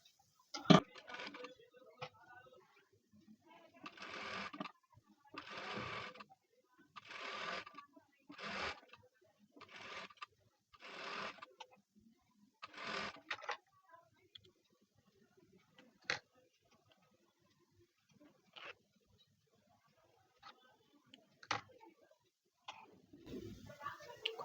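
A sewing machine stitching a blouse runs in short, even bursts of rapid needle clatter, about a dozen runs separated by pauses with small clicks and fabric handling.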